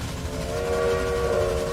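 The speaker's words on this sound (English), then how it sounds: "Whistle, huh?" A steam-style train whistle in the Railway Empire railway simulation game sounds as a sustained, tonal, multi-note blast that swells slightly toward the end, layered over a soft rolling rumble of the train.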